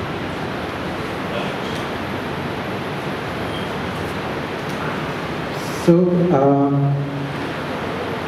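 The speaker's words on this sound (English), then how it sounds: "it's raining, finally the monsoons are here." Monsoon rain pours down beside the Mahe river as a dense, steady hiss that fills the whole stretch. A voice speaks briefly near the end.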